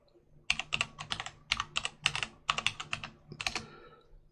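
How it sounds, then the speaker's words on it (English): Password being typed on a computer keyboard in an Ubuntu terminal: a close, crisp run of about a dozen quick key clicks in uneven bursts, with no talking. "You need to type the password."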